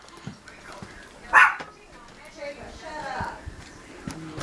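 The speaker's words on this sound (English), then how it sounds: "Crazy dog." A dog barks in a home, a sharp burst near the middle standing out briefly over a busy background of household noise and people talking.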